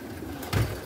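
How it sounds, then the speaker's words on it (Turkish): Pigeons being fed, giving a short low coo amid quiet rustling background, close by and brief. "Bravo kuşlar bravo."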